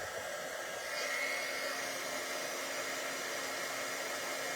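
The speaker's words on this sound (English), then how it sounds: "one more, and then I'll turn the heating tool off" A heat embossing tool blows a steady, even stream of hot air for several seconds, a constant hiss with a slight rise partway through, heard alone and fairly quiet.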